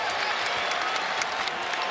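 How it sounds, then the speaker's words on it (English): A basketball crowd at the Yum Center in Louisville cheers and applauds steadily during a UTEP vs Louisville game, a dense, even roar of claps and shouts filling the arena, with a commentator's voice faintly underneath. "Crowd comes alive here in the Yum Center."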